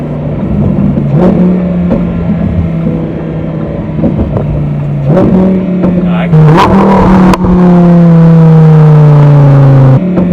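A 2020 Lamborghini Huracán Evo's engine drones close up inside the moving car, pitch climbing and dropping as gears downshift, with wind noise and a burst of revving near the end.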